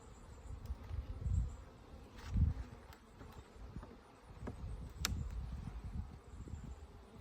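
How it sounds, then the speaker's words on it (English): Dense, steady buzzing of many honey bees at an open beehive while frames are inspected, a continuous close hum with a few louder swells and no talking. "So I definitely have a lot of bees."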